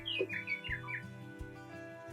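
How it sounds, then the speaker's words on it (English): A house finch calls with a quick run of bright, descending chirps and warbles, fairly close and clear over a low steady hum, fading after the first second. "It's the house finch."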